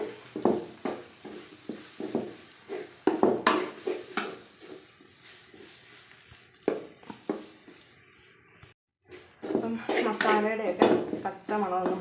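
Spices and chicken masala fried and stirred in a pan, with repeated clattering scrapes of a utensil against the pan over a faint sizzle; a voice talks in the closing seconds.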